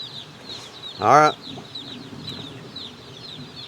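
Farm chickens cluck softly in the background, with one loud, close squawking call standing out, while a person speaks briefly.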